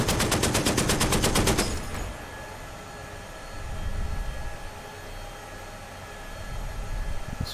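A tank's machine gun in the DCS World combat game fires one loud, fast, rattling burst for nearly two seconds, then stops, leaving a low engine rumble that swells and fades.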